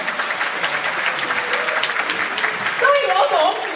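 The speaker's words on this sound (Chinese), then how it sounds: "再一次，请大家俾掌声。" Dense, steady audience applause fills a Cantonese-language concert hall at a veteran singer's 50th-anniversary show, with a voice speaking over the clapping and a brief swell near the end.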